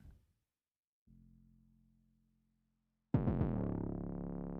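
A short low 808 bass hit, then a long sustained sub tone, and finally a loud, gritty, harmonically rich parallel-distorted 808 bass blast that rings on.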